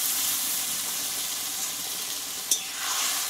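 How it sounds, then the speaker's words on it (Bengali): A loud, steady sizzle of ground spice paste frying in a pan with cumin powder, as water from the grinder jar goes in, with one sharp clink partway through. "এই মিক্সিটা দিয়ে অল্প আমি একটু জল দিয়ে দেবো"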